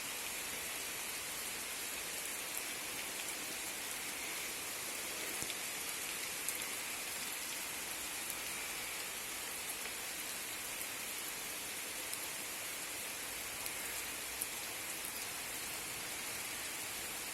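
Steady rain falls continuously, a dense even hiss of drops hitting surfaces nearby, unbroken for the whole stretch with no voices.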